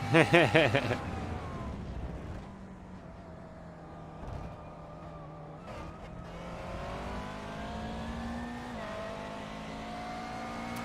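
A McLaren GT3 race car in a racing video game at Circuit of the Americas: a brief loud high rev at the start, then a steady engine drone that climbs in pitch through the gears, with people talking over it.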